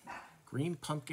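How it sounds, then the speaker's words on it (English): A dog barks in the background, a few short barks around someone talking about a fishing lure colour, heard faintly beneath his steady indoor speech. "I apologize for the dog barking in the back if you can hear that."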